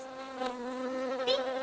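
A single bee buzzes close by in a steady, sustained drone with slight wavering pitch, loud and clear with no other sounds around it.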